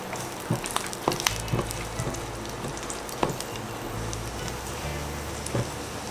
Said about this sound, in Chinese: 等油热之后倒入蒜末，炒出蒜香味